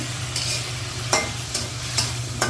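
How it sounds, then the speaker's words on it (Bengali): Eggplant frying and being stirred in a spiced masala with tomato, a steady sizzle with a few brief scraping stir noises rising over it. "বেগুন দিয়ে দিচ্ছি"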